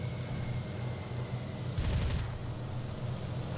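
Aircraft guns in War Thunder fire a short, dense burst of rapid shots over a steady droning engine, loud and close, with no voices.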